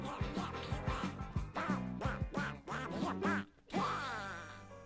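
A silly, cartoonish duck voice quacks and squawks through an old rock and roll song in quick, choppy syllables, ending on a longer drawn-out squawk; a voice imitates the duck.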